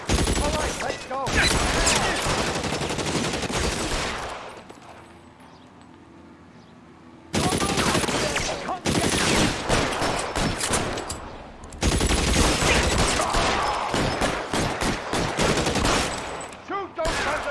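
A shootout in the video game L.A. Noire brings bursts of rapid gunfire, dense volleys of close shots that break off into a brief lull before erupting again, loud and sustained, with shouted voices between the shots.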